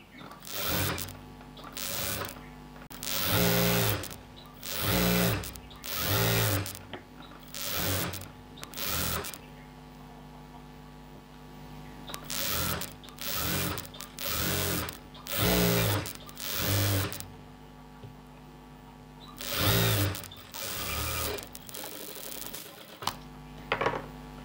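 A sewing machine hems a chudi pant in many short, rhythmic bursts of fast clattering stitching, close and regular, with a faint hum underneath between runs.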